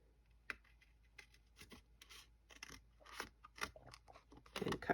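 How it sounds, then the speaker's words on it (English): Scissors snip through folded card stock in a run of short, crisp crunching cuts, close and fairly quiet, irregularly spaced and growing denser toward the end. "think I'm just going to use my scissors."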